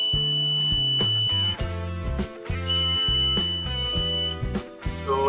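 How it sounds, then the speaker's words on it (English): A metal detector buzzer on a long-range spy robot sounds over metal: a steady, high electronic tone comes in two sustained stretches over busy melodic music. "as soon as we bring it closer to the metal detector, or the metal detector goes over a metal, it detects it and sounds a buzzer"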